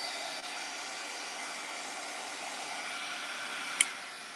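A steady, airy hiss of a heat gun blowing continuously, with a brief sharp click near the end.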